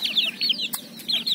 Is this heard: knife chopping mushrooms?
no